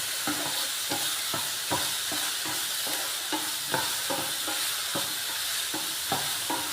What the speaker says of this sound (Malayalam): ഒരേപോലെ ഒന്ന് വാടി വരുന്നത് വരെ നമുക്കൊന്ന് ഇളക്കി കൊടുക്കാം